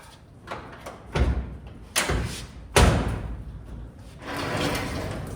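A 1970 GMC truck cab door is slammed shut several times during latch testing, giving close, heavy metallic thuds spaced about a second apart, followed by a softer rattling shuffle with no speech.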